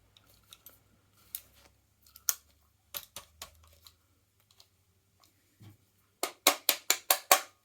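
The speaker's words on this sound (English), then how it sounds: "drop the body pin in" A body pin is pushed into a KWA Ronin 47 airsoft gun, giving scattered small clicks and taps, then a quick run of sharp clicks near the end, close and otherwise quiet.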